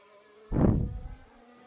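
A Formula 1 car during 2021 Azerbaijan Grand Prix qualifying streaks past as a brief, high-pitched engine whine that swells sharply and fades within about a second over a faint steady background.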